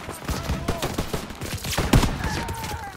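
Rapid rattling gunfire in Call of Duty WWII, with overlapping rifle and machine-gun shots in a dense, loud battle mix, thumping continuously with brief bright cracks throughout.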